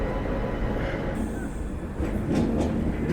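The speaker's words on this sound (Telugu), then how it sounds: "ఈ ట్రైన్ వచ్చేసి తిరుపతి దాకా వెళ్తుంది." Train leaving Charlapalli station bound for Tirupati, a loud close rumble of rolling carriages with a brief high metallic squeal partway through.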